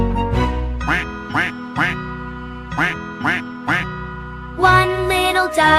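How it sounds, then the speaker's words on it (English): A mother duck in a children's song quacks in short bursts of two or three loud, nasal calls, set against a bright musical backing that swells between the quacks. "Mother duck quacked"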